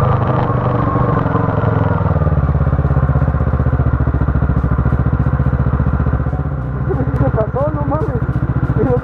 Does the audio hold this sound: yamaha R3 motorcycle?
yes